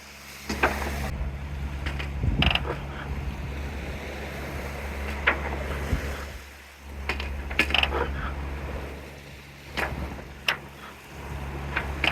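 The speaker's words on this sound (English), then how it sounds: "every now and then you still get a bit of a roller coming through" Ocean swell rolls past a sailing boat off northern Spain, a steady low wash of water and wind noise with occasional sharper splashes and knocks against the hull.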